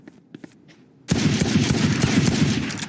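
Sheriff pistol headshot gunfire in a Valorant esports match, a sudden loud burst of rapid shots and impacts after a second of quieter clicks, continuing densely to the end.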